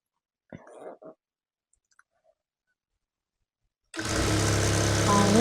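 A sewing machine stitching a blue baby jumpsuit starts up after a stretch of near silence and a few brief handling sounds, then runs with a loud, steady motor whirr and rapid needle clatter.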